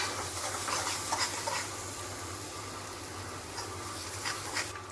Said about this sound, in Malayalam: ഇനി വഴറ്റി കൊടുക്കാം.